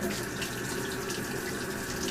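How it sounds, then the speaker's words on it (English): Hot water runs steadily from a tap into a bucket, a constant hiss and splash with no break. "I'm going to run some hot water into the bucket"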